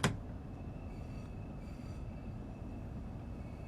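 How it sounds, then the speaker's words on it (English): In Train Sim World 2, a train rumbles past underneath near St Pancras: a steady, low, continuous rolling drone of rail wheels with faint higher squeals, following a brief sharp click at the start. "I think there's a train underneath us, I think."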